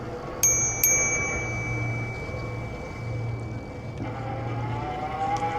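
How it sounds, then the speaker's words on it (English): Two quick dings of a soft U-Free bicycle bell rung while riding, followed by a lingering tone, over road and wind rumble. "These bells on the U-Free, they look cool, but they are a little bit soft."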